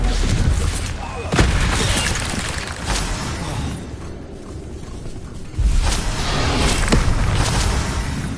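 Stupefy spell being cast in the Hogwarts Legacy video game, loud booming impacts and shattering bursts over a busy combat soundscape, with a strong thump near the start and another surge later.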